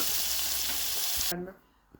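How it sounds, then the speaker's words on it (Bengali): Steady loud sizzling of battered jellyfish frying in hot oil that cuts off abruptly, leaving faint quiet noises. "এখন তো মোটামুটি ভাজা হচ্ছে"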